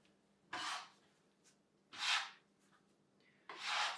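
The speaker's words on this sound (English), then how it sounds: "I've got my bench scraper, and I'm going to fold this together." A bench scraper scrapes and folds soft gnocchi dough with flour on a work surface, three close, soft rasping strokes separated by short pauses.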